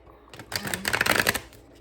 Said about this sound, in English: I try to remember to leave a timestamp to go past the shuffling, because it does take me a minute to get all the cards out